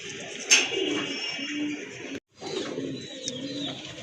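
Pigeons coo steadily at a stall selling paired domestic pigeons, a soft low murmur running throughout with a brief sharp bird call near the start and a short gap of silence midway.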